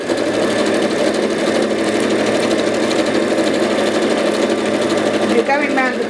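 A sewing machine stitches steadily through paper, its fast, even mechanical whirr running continuously and close by for several seconds.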